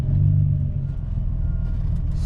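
A manual car's engine idles low and steady as the clutch is eased out in first gear, a close continuous rumble with a slight dip in pitch partway through.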